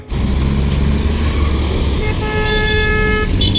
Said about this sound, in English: They even smile at you when they're honking at you.